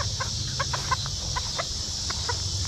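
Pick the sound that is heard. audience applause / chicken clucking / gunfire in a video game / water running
chicken clucking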